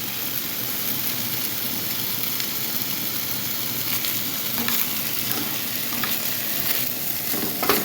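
Steak pieces for a quesadilla sizzle steadily in a hot pan as they brown, a continuous close crackle and hiss with occasional louder spits and no voices.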